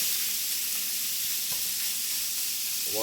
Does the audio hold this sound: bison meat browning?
yes